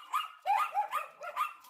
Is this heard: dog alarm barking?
yes